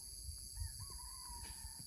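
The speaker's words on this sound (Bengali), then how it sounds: "মোরগ মুরগির ডাকতেছে কোক করো কোক" Hens and roosters in a Malaysian palm plantation give a faint, distant cluck or call over a low outdoor rumble, brief and quiet.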